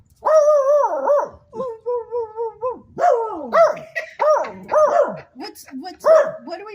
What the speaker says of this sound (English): What are we barking at?